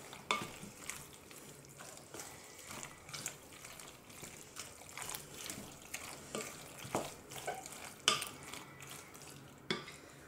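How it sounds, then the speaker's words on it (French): Béchamel is stirred into ham pasta for a gratin, giving faint wet squelching and repeated soft scrapes against the pot in an uneven rhythm, low in level and without speech. "Et je verse par-dessus ma béchamel. On remue."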